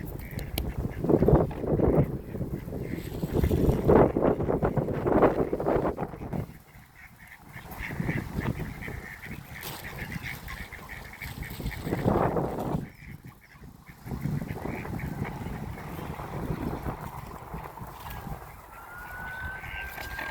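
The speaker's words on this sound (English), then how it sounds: "We've come to feed the ducks." Ducks and geese quack and honk steadily beside a river where people are feeding them bread, a loud, busy outdoor chorus of repeated calls with brief lulls and no talk.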